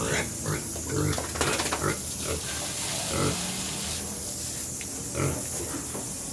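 Pigs grunt and snort repeatedly in short bursts, fairly close, over a steady background hiss like running water.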